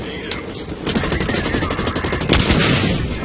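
Dense, rapid gunfire with sharp bursts and a heavier blast near the end during a match of the shooter game Blacklight: Retribution, loud and continuous, with voices faintly under the noise.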